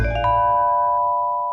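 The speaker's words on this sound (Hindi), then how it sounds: "नहीं, ताली नहीं, घंटी बजाओ।" A cartoon bell gives one bright struck ding with a clear ringing tone that holds steady and fades slowly over a second and a half, heard alone and fairly loud.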